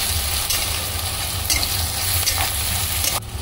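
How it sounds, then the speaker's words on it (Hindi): Ginger, garlic and green chili fry for a village-style samosa filling, giving a loud, steady close-up sizzle with stirring scrapes throughout before it cuts off abruptly near the end. "अब अदरक लहसुन और हरी मिर्च भी भून गई है"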